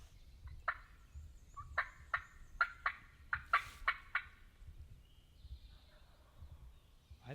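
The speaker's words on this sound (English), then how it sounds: "we got a turkey gobble on across the hollow on the other hillside" A wild turkey gobbles from the far hillside across a hollow on a rainy day, a rapid series of about eight distant rattling gobble notes, with low rain and wind rumble underneath and a faint bird call afterward.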